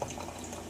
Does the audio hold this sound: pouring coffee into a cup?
yes